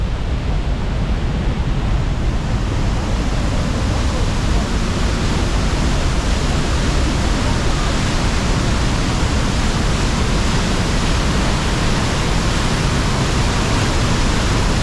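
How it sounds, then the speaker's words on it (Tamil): Fast water rushes and pours at a waterfall in a loud, unbroken roar that stays steady and full for the whole stretch, with no voices over it. "தண்ணி எவ்வளோ வேகமாக ஓடிக்கொண்டிருக்குன்னு பாருங்கள் சரியான வேகமாக ஓடிக்கொண்டிருக்குது"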